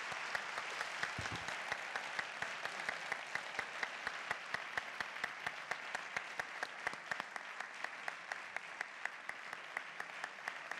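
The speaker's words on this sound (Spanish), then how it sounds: "Un fuerte aplauso." An audience applauds after a conference talk by astronaut Pedro Duque, sustained dense clapping with crisp individual claps standing out, fairly distant and steady throughout.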